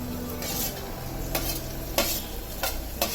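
Mutton kheema stirred in a hot pan after fresh coriander goes in, a steady sizzle and frying hiss broken by four sharp scraping strokes of the spoon against the pan, close and fairly loud with no voices.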